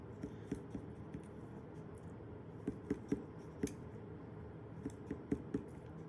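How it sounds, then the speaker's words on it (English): A knife cuts between the bones of a rack of lamb in a series of faint, crisp snips and clicks, irregularly spaced and close up, with no speech. "I just want to cut through each individual bone here a little bit."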